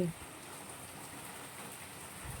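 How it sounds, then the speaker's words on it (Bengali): Steady rain falls during a stormy, windy day at a village house, a continuous soft hiss of drops on surfaces with no talking over it. "কি বৃষ্টি পড়ছে"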